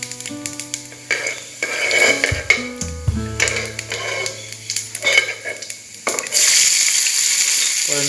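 Chopped onions sizzle in hot ghee with cumin seeds for an aloo samosa filling, a steady frying hiss broken by spoon-stirring scrapes and clinks, growing louder and denser over the last couple of seconds.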